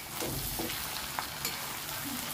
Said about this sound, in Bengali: এবার আলু আর পেঁয়াজটা সুন্দর করে ভেজে নেব